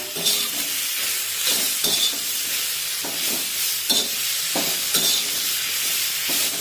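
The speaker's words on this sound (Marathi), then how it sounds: "आता यामध्ये टोमॅटो टाकूया, चवीनुसार मीठ टाकूया आणि टोमॅटो परतून घेऊया।" Chopped tomatoes with salt sautéing in a pan over a medium flame, a loud continuous sizzle and hiss broken by regular scraping stirs, with no voices.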